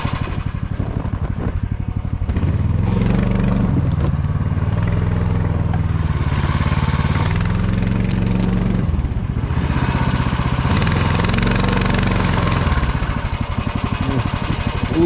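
A petrol engine saw cuts through an obstacle blocking a forest road in the taiga, revving loud and close with rising and falling pitch as it bites into the wood.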